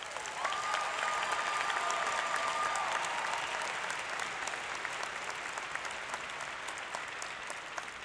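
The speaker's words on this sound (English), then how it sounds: "Please join me in a round of applause for all of their efforts" Graduation crowd in a stadium applauding the student cabinet officers, a broad, steady wash of clapping that stays fairly faint and distant, with a thin whistle or tone rising briefly near the start.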